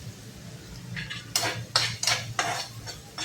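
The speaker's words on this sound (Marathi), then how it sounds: "आता हे दरदर वाटलेलं आहे ते सर्व ह्याच्यामध्ये आपण घालूया आणि ह्याला परतूया" Coarsely ground chili, garlic, coriander, cumin and fennel paste sautéing in oil over a low flame, heard as a run of sharp, close spatula scrapes and clanks against the pan after a quiet start, with no voices.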